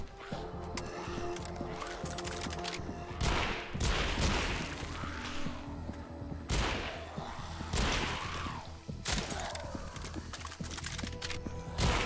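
Rifle gunfire in the VR zombie shooter Arizona Sunshine Remake, horde mode: several sharp, loud shots spaced a few seconds apart, each with a short echoing tail over a low game background.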